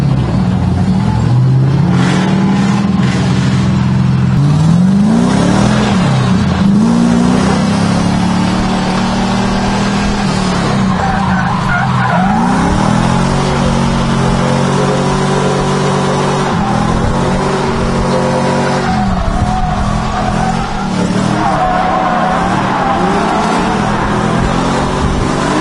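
A Mazda FC RX7 rotary engine revs hard and loud in repeated rising and falling surges while drifting, with screeching tires throughout, close and continuous with no talking.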